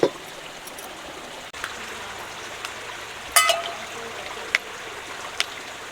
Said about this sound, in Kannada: ಬೇಕೋ ಅಷ್ಟು ನೀರು ಹಾಕೋದು.